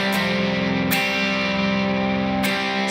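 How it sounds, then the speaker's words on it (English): Electric guitar with an overdrive effect engaged, playing thick distorted sustained chords with a few sharp strummed attacks over a continuous driven tone, loud and alone. "for this part, I'm going to engage a drive."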